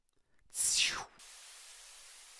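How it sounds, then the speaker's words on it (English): A bright burst of white noise, used as a transition effect in a music track, sweeps downward for about half a second, then cuts to a softer, steady hiss that lingers to the end. "Some white noise."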